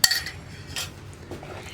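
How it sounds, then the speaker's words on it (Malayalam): Curd mashed in a bowl with a fork or spatula for mixed fruit pachadi: a sharp clink of utensil against the bowl at the start, then soft scraping and stirring taps, close and fairly quiet. "നമ്മൾ ഉടച്ച് വെച്ചിരിക്കുന്ന തൈര് ഫോർക്ക് യൂസ് ചെയ്തിട്ടോ സ്പാറ്റില യൂസ് ചെയ്തിട്ടോ ഒക്കെ ഉടയ്ക്കാം."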